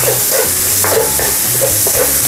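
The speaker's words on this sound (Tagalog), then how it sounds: "susutoy lang po natin ito hanggang sa lumabas ang aroma ng ating mga sibuyas, bawang at luya" Onion, garlic and ginger sautéing in a pan, a loud close sizzle with repeated quick spatula scrapes and stirs in an uneven rhythm, no voices heard.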